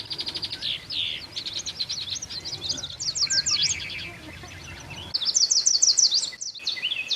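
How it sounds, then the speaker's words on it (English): Songbirds singing outdoors during a winter birding program, including a yellow warbler: repeated bright, rapid sweet phrases close by, several song bursts over busy background chirping, with no talk. "Oh yeah, yellow warbler."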